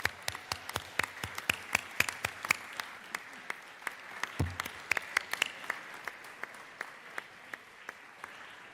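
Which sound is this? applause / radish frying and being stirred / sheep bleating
applause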